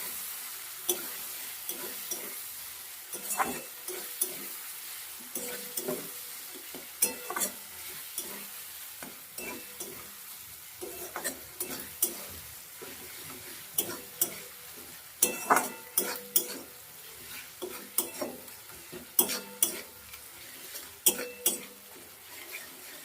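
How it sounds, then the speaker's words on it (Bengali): Chicken liver and gizzard being stir-fried with garlic paste and spices in a pan over medium heat: a steady low sizzle broken by repeated scraping, clattering strokes of the spoon, growing busier toward the end, with no talking. "সব কিছু দিয়ে ভালো করে কষাবো গ্যাসটা একটু মিডিয়ামে করে দেবো যেন পোড়া না লেগে যায়"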